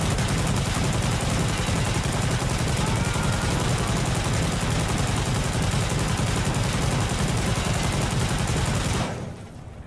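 A PKM machine gun fires in Insurgency Sandstorm, one continuous loud sustained burst of rapid automatic fire lasting about nine seconds and then cutting off into a brief fading tail.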